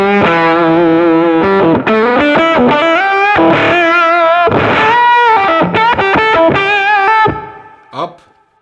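A JAM Pedals Octaurus distortion pedal with its clipping switch down, played on electric guitar: a loud, continuous run of sustained distorted notes and chords shifting pitch, fading out near the end with one brief final stab.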